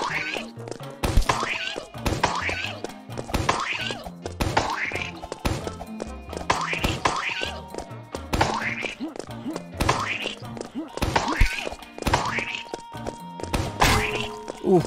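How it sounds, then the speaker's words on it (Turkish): Comic cartoon impacts from a cook's frying pan striking a character's head in the Roblox game Barry's Prison Obby, a repeated series of bright boinging thunks over busy game music and effects. "Kafana tava yedim."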